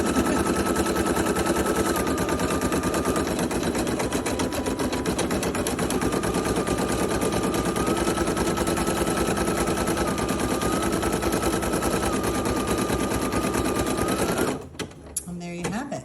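A Brother PE800 embroidery machine stitches with a fast, loud, continuous mechanical chatter and a whining motor tone, running steadily for about fourteen seconds before stopping abruptly near the end.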